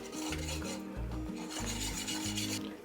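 Gram flour is stirred and roasted in oil in a pan, with continuous dry scraping and rasping of a spoon against the pan. The strokes come in a steady rhythm, close and fairly loud, and no one speaks.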